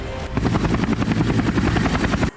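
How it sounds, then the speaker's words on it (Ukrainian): Naval military helicopter during joint exercises, a loud steady rotor chop with rapid even blade beats over a turbine whine, close and continuous until it cuts off abruptly. "а ще військово-морські вертольоти"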